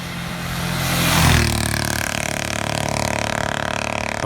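A big block Hemi engine fed boost by an AMR 300 supercharger swells to a loud rising roar, then settles into a steady, close, throbbing idle with a thick rumble and no talk.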